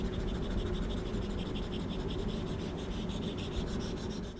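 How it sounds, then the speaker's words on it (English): An Apple Pencil writes on an iPad fitted with a Paperlike matte screen protector, giving a close, continuous papery scratching and rubbing with quick repeated strokes and no voices. "it also sounds like real paper when you're writing or drawing on the display"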